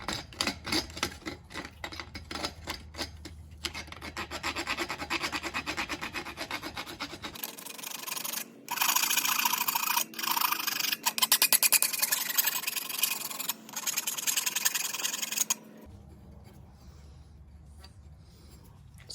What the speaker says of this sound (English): use a file to clean up the edges so you don't have sharp edges